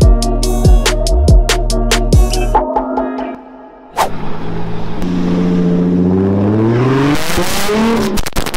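Loud modified Japanese cars at a car show rev hard with sharp popping backfires, then roar and accelerate past close by, the pitch sweeping up and down.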